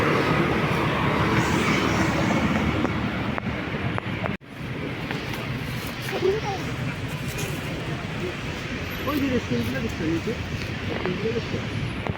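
Steady rumble of a moving train heard from inside a carriage, travelling along the Tiber near Rome, a constant roar with a brief dropout, while people talk quietly over it.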